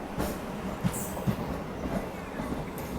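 Train pulling into Forbesganj junction railway station in Bihar, a steady low rumble of rolling wagons with faint rhythmic wheel clicks and occasional brief squeals, heard from on board.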